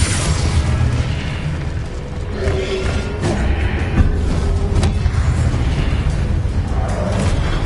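A Confringo blast spell goes off during a spell-casting fight in Hogwarts Legacy, giving a dense, rumbling explosive burst with a few sharp pops over continuous low combat noise.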